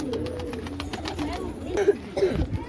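Domestic pigeons kept in a home loft coo close by in a few soft, low, rounded calls, with background voices and some rustling around them.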